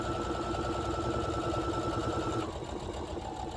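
A sewing machine stitches a pocket seam on pants, a steady fast mechanical whirring that runs continuously, then slows slightly in pitch near the end, fairly quiet and close with no talking.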